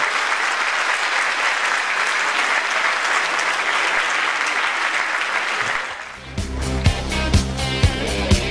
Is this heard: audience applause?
yes